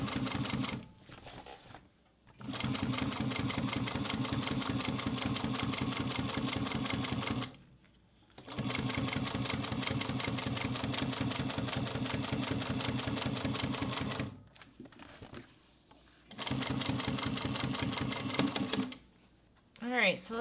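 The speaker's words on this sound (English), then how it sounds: "So now we're going to top stitch on the thinner side." A Juki sewing machine top stitching the thinner side of a Bonnie Bucket Bag, running in rapid, even bursts of stitching separated by short pauses.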